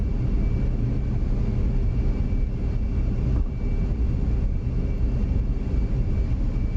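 An F-15C jet taxiing in the DCS flight simulator, its main landing strut on one side folded, gives a steady low engine rumble with a faint high whine, moderately loud and continuous, with no talk over it.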